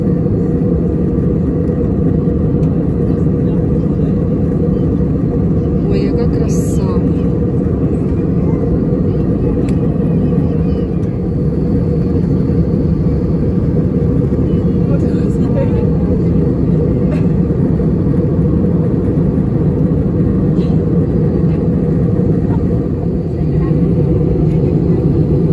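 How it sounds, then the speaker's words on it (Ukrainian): Inside an airliner cabin during a landing approach low over water, a loud steady low-frequency engine rumble and airflow roar fills the whole stretch without letup. "Тут наш літак пішов на посадку, ми летіли дуже низько над водою."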